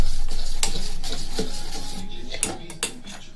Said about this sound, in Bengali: একটা মিক্সারে করে এইভাবে মিশিয়ে নেব খুব ভালো করে।